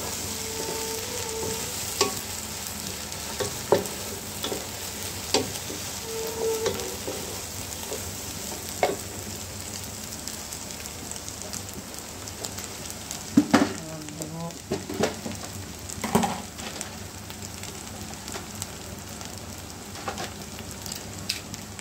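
Ginger garlic paste fries in a pan with a constant close sizzle, punctuated by repeated clinks and scrapes of a stirring spoon, a brief burst of louder clatter midway.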